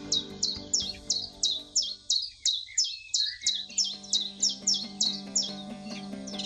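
A common chiffchaff repeats a sharp, rhythmic two-note song, around a dozen evenly spaced chirps, clear and fairly close over faint background hum, in Kazakhstan.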